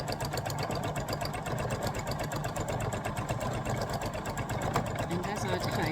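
A sewing machine does free-motion stitching over scrap fabric to darn a hole, giving a close, steady, rapid mechanical whirr with fast regular needle pulses throughout.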